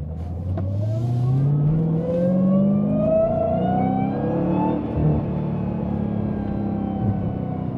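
A supercharged Dodge Challenger Hellcat pulls hard, its high supercharger whine climbing steadily in pitch over a deep engine roar, loud and close throughout.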